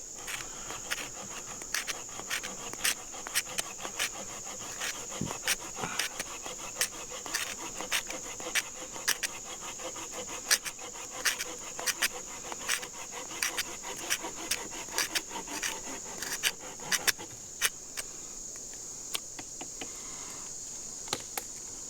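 Camillus Inject fixed blade knife scraping shavings from wood, a steady series of dry rasping strokes, close and fairly quiet, with a constant high insect-like whine in the background.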